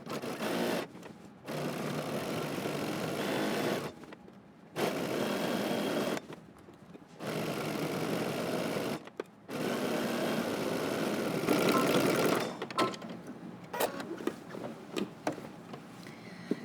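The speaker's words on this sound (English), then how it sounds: "you can stitch the rest of the way down using 5/8 of an inch seam allowance" A sewing machine stitches a jacket collar seam in bursts of steady whirring, each run lasting a second or more, separated by short pauses, close and fairly loud with no talking.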